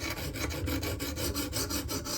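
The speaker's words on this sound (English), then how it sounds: "I'm doing my strokes here. And I've got the 140 grit stone" A knife edge is stroked across a coarse 140 grit sharpening stone, giving close, steady rasping strokes in a quick regular rhythm with no voices.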